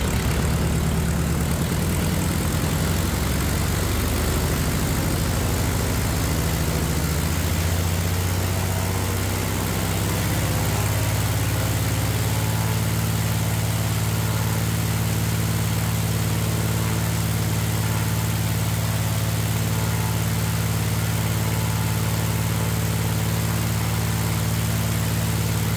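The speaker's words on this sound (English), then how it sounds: "we're gonna go full rich, and now full power run up" Small aircraft piston engine running steadily, mixture set full rich for a full-power run-up, a loud sustained drone that rises in pitch and holds constant, with no talking.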